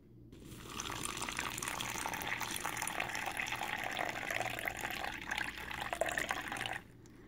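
Water pours steadily into a U.S. military MRE pouch for a Beef Taco meal, a continuous close-up splashing fill lasting several seconds before stopping abruptly.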